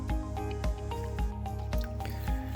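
Water drips steadily off a leaf being used to collect it on a hiking trail in Virginia, a close, regular run of soft drops roughly every half second against a constant background hum.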